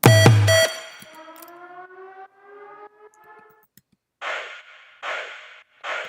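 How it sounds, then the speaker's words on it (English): A siren sound effect within a music mix rises from a dense opening, falls into a wavering, descending tone that fades out, and ends with three short bursts of noise. "let's look at the siren"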